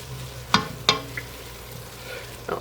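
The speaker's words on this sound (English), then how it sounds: "Quick stir." Sugared onions cook gently in a pan over low heat, a soft sizzle under a few sharp scrapes and knocks of a utensil stirring them, close and quiet.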